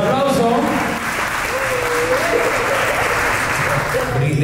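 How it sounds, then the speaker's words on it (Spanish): Loud, sustained applause fills a sweet sixteen birthday party, close and continuous, with excited voices and calls mixed in among the clapping guests. "Fuerte el aplauso."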